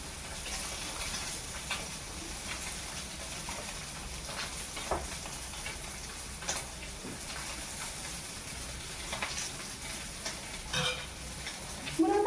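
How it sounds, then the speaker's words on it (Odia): Fish frying in a pan gives a steady, close sizzle and hiss with occasional small pops and stirring sounds, continuous throughout and without talk. "ତବେ ଅଧା ମାଛ ଭାଜି ସାରିଥିଲି"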